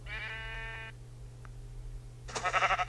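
A single wavering sheep bleat from the Minecraft video game sounds clearly for about a second over a low steady hum, then a short click and a bright, noisy burst follow.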